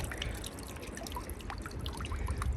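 Water trickling and splashing in a garden water feature on a quiet Japanese side street, a soft continuous flow with small drips, fairly close and alone.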